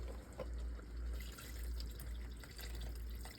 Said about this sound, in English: Gonna add some of this beef stock.